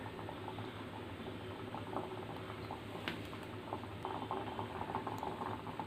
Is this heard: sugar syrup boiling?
yes